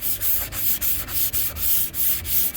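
Rhythmic back-and-forth strokes of sandpaper on a block rasp across the body panel of a 1978 Chevy Malibu drag car, about eight quick rubbing passes in a steady cadence, close and clear.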